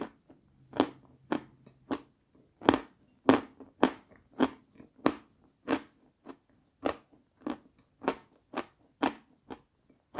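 Crunchy crackers and waffles being bitten and chewed close to the microphone, a steady run of about twenty sharp crunches at a regular pace against a quiet background.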